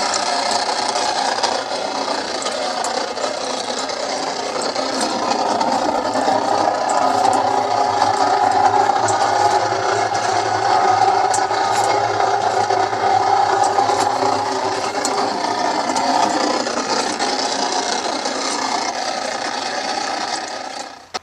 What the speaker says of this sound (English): let's plug it in and hear it run